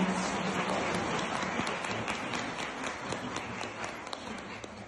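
Applause from the audience at a Brazilian congress on autism inclusion, a steady wash of clapping spread across a hall at moderate distance, continuing evenly throughout without voices on top.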